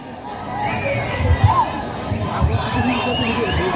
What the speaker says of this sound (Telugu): మీ అరుపులు మీ కేకలు